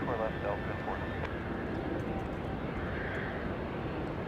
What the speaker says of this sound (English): Southwest Airlines 3033 flying in from New Orleans